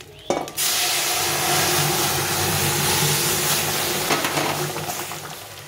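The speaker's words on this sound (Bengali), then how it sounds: "এই যে আমি ডালের ফোড়নটা দিয়ে দিলাম" Hot tempering hits a pot of bitter lentil dal with bitter gourd, bursting into a loud, sudden sizzle that holds as a close, steady hiss and slowly fades toward the end.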